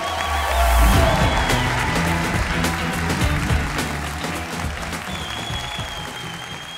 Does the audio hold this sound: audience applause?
yes